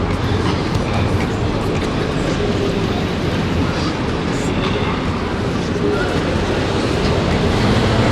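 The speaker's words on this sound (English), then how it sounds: "you've got a U-Bahn and S-Bahn here into this train station" U-Bahn or S-Bahn train running through a city station in Stuttgart, a steady loud rumble that holds for several seconds, with faint voices under the noise.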